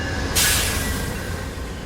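Amtrak passenger train rolling through Wisconsin, heard from inside a car as a steady low rumble with a brief burst of hiss partway through, no voices.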